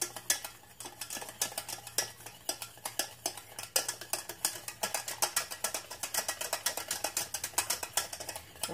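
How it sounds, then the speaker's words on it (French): A thickening preparation is stirred in a pan, a spoon scraping and clacking against the metal in a quick, steady rhythm of close, sharp strokes with no talk. "Donc on remue bien comme il faut pour pas que celle-ci brûle"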